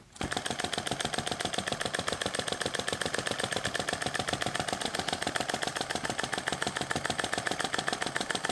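A small Sai Hu SH-02 vacuum engine runs steadily for several seconds, a fast, even rhythmic chuffing that stays loud and close throughout, with no voices.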